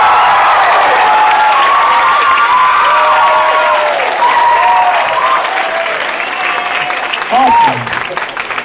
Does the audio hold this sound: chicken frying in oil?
no